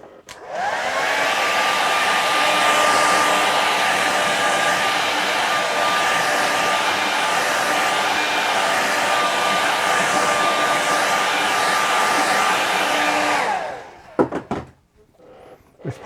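A hair dryer blows a loud, steady whoosh with a constant whine over a wet watercolour painting for about thirteen seconds before switching off, followed by a few faint clicks.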